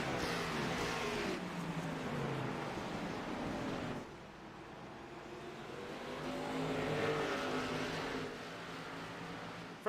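Racing video game stock cars circle Martinsville Speedway, a steady broadband engine roar that swells and eases as cars pass, with the pack's rumble sustained throughout and no talking.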